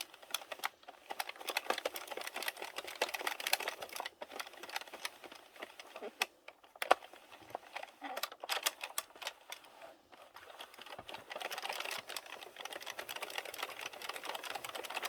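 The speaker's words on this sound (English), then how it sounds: "I always go really, really slow on the first row or 2 just to make sure my machine picks up every stitch" A domestic knitting machine works the first rows of a plain-knit off-the-shoulder shawl slowly, its carriage giving a continuous rattling, clattering run with brief pauses, close and moderately loud, with no talk.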